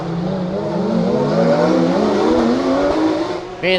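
Porsche Cup race cars accelerate hard out of a hairpin at the Bang Saen street circuit in Thailand, a loud, continuous engine roar with rising pitch as the cars climb through the gears, one last brief shift near the end.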